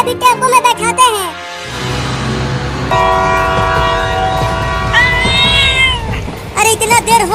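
In a desi comedy cartoon, a cat gives several loud, bending meows at the start and again at the end, with a rumbling train and a sustained horn blast in between.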